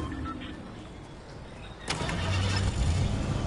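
A car engine cranks and catches in a PS4 video game, a sudden surge of engine noise midway that settles into a steady running rumble under faint background game sound.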